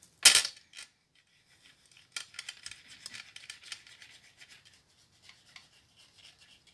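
Scissors cutting through pouch material for die-cut storage, a sharp opening snip followed by a run of quick, light crisp cuts and rasps close by, fading softer toward the end with no talking.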